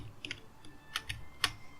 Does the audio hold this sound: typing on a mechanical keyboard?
yes